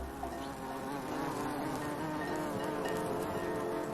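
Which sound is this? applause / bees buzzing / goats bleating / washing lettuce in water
bees buzzing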